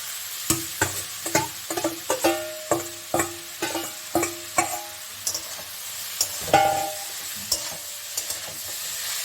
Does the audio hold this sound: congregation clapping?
no